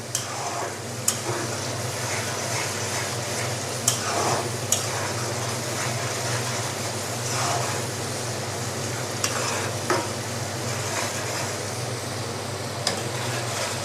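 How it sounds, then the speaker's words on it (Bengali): Small shrimp sauté in a pan for a pickle-style curry with yardlong beans, giving a steady frying hiss. Sharp stirring clicks and taps break through at scattered moments, with no one talking. "চিংড়ি মাছটা কষানো কষিয়ে নিব ভালো করে ছোট চিংড়ি মাছ"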